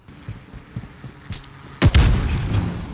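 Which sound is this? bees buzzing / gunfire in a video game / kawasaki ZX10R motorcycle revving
gunfire in a video game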